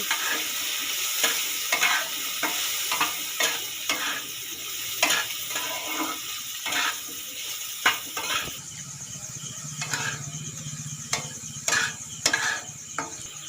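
Spices with turmeric powder sizzle in hot oil in a pan, a steady fry broken by repeated scraping strokes of a stirring spatula, loud and close with no talk.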